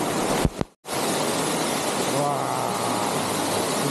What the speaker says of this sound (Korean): 이 폭포가 최고구나.